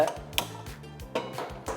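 A metal saucepan for boiling water is handled close by, with light clanks and scrapes against a hard surface, a few soft knocks in quick succession.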